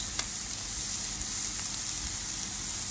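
Small balls of sausage meat fry in a pan of oil, giving a steady, close, even sizzle that runs unbroken throughout, with faint crackles scattered through it.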